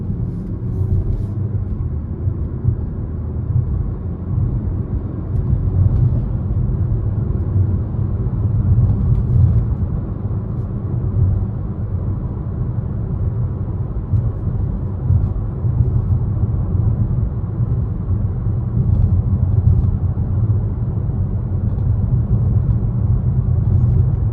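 Steady low road rumble inside a 2023 Nissan Altima 2.5 SR while driving, a continuous dense drone with mild tire and engine hum that stays constant and fairly loud throughout, with no talking.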